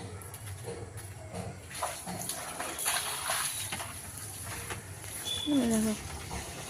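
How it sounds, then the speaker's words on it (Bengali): Tap water runs into a bucket with a faint, steady rush. An animal call and other background household noises sound briefly near the end. "কলের থেকে বালতি দিচ্ছে।"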